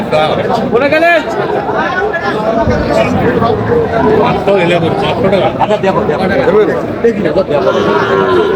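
Shahiwal cattle lowing repeatedly at a livestock market amid a loud, busy crowd, with steady chatter and bargaining voices all around.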